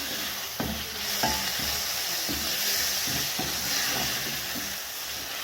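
Goat tripes stirred in a hot frying pan, a steady sizzle with repeated scraping and knocking strokes of the spoon against the pan, close and continuous throughout.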